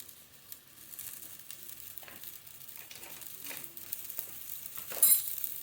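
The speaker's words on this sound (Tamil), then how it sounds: "இது நல்லா கொதிக்கட்டும்." Channa masala of cooked chickpeas and their cooking water simmering in a pan, a faint, soft sizzle and bubbling with occasional light scrapes and stirring clatter, quiet and without speech.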